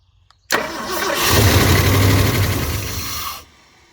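A 1971 Ford truck engine, first start in 27 years, cranks and catches abruptly, then runs with a loud, rough rumble for a few seconds before cutting off.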